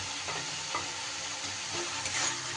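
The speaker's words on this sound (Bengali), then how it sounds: "এবার ভেজে রাখা আলুটা আমি দিয়ে দিলাম।" Fried potatoes hit a pan of egg dhoka curry, setting off a steady, close, dense sizzle with faint stirring scrapes throughout and no voices.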